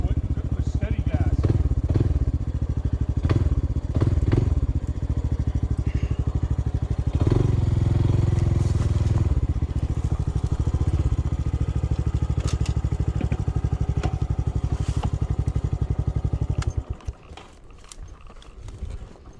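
A Honda CT125 motorcycle engine labours up a hill on steady throttle with an abnormal noise, loud and continuous beneath a rider talking, before it drops away near the end.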